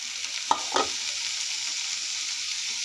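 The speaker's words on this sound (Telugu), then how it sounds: "ఇప్పుడు టమాటాలు వేసుకుందాము." Tomatoes stirred into onions and green chillies frying in a pan, a soft steady sizzle with two sharp clanks of the spoon early on, close and quiet with no talk.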